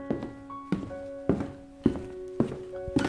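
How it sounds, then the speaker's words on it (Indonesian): Five or six hollow footsteps land at an even, unhurried pace, each with a short echoing ring, as if someone walks along an indoor hallway. "saya terdengar bunyi tapak kaki di koridor luar bilik"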